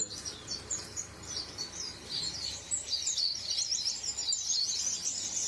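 Several birds on a farm chirp and twitter busily in quick overlapping bursts, moderately close, over a faint background rumble.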